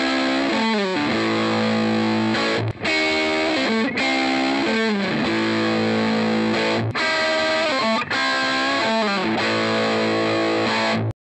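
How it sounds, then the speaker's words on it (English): Hard rock lead lines on a humbucker-equipped electric guitar through a Nobels ODR Natural Overdrive Mini overdrive pedal, loud, saturated, sustaining notes in flowing phrases with brief gaps, heard alone up close. "Hard rock solo sound, humbucker."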